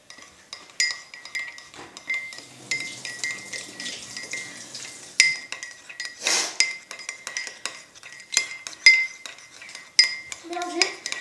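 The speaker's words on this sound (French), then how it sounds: "Mélanger jusqu'à obtenir un mélange comme ça." Spoon clinking and scraping around inside a mug while mixing vanilla mug cake batter, a run of light irregular taps and rubs at close range, with no talking.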